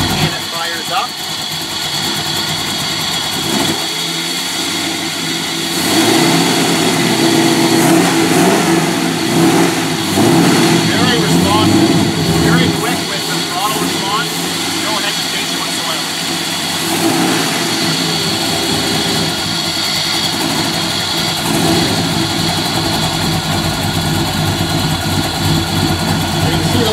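A small-block V8 engine with Edelbrock Pro Flo fuel injection, converted from a carburetor, cranks and catches without pressing the gas, then settles into a steady, fairly loud idle with some revving, heard up close.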